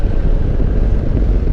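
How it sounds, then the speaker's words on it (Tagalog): Strong wind buffets the microphone on a motorcycle ride along Nasugbu Batangas Road toward Tagaytay, a loud, continuous, low rumbling roar with no voices. "Ang sarap talaga ng hangin dito"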